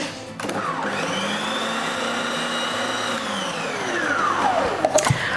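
An electric beater whirs steadily as it mixes egg into muffin batter, a loud, close, continuous motor whine that shifts pitch slightly and stops with a clatter near the end.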